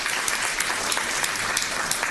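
Audience applause in a county commissioners court session, a steady patter of many hands clapping together for about two seconds, fairly close and without talk.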